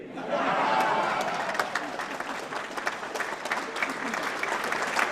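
An audience at Narendra Modi's speech inaugurating TCS Garima Park in Gandhinagar breaks into a loud round of applause that swells quickly and then continues as dense, steady clapping for several seconds.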